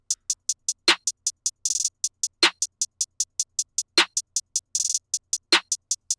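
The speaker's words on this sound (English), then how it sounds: "The clap is fairly normal, so I'm just going to play that with the hi-hats." Crisp programmed hi-hats tick in a steady two-step pattern of a new wave trap beat, with a sharp clap landing every couple of seconds and brief hi-hat rolls between.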